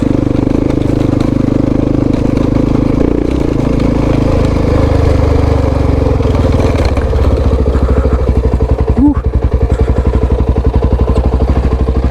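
A motorcycle rides in second gear on a rocky high-country trail, its engine a loud, close, throbbing drone that shifts pitch and settles into a rapid, pulsing chug in the final seconds, with no talk.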